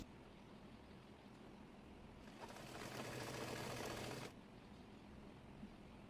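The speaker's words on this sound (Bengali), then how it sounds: "এই নেকাপের কাপড়টি সেই দাগের উপরে রেখে সেলাই করে এ নিচ্ছি" A sewing machine stitches niqab cap fabric for a hijab along a marked line. A single fast, rattling burst lasts about two seconds amid a quiet room, then stops abruptly.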